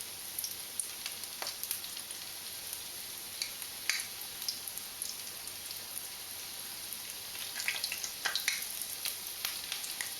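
Mushroom bhajis frying in hot oil, giving a steady dense sizzle with scattered pops and crackles throughout, close and continuous with no talking.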